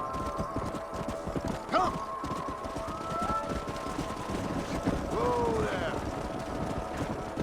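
Horse hooves clip-clopping in Red Dead Redemption on Switch, a steady rhythm of hoofbeats with a neigh and whinny breaking through, wind noise underneath and some talk in the background.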